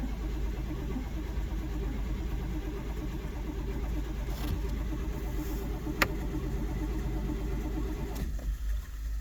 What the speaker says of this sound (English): So, alright, let's give it a crank.